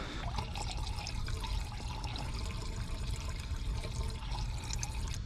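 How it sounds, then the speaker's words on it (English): Distilled water used as coolant drips and trickles from the engine bay of an E46 M3 with a 1.5JZ engine swap. The dripping is faint, continuous and close, with no voices. "Dripping water everywhere."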